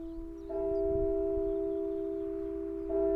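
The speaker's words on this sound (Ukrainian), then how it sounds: "Рівно о 12-й годині тут чути бій годинника." A clock bell strikes noon at a US military cemetery in Europe, a sustained, ringing tone that starts about half a second in and swells again near the end, steady and fairly loud.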